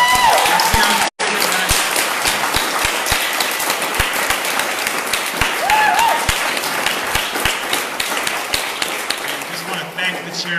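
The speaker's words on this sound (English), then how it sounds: "let's give another strong round of applause to Chairman Amalia Shatella." Sustained audience applause and cheering at a Days of Reparations to African People event in Boston, dense clapping with sharp individual claps standing out, filling the whole stretch, with a voice briefly heard over it.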